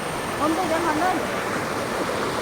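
A fast-flowing stream rushes steadily nearby as a broad, continuous wash of water, with a faint voice briefly audible beneath it.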